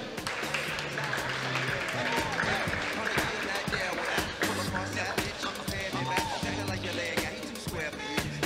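Audience in a swimming arena applauding the winners at a national championship, steady clapping mixed with crowd noise and echoing announcer-style voices and whistles.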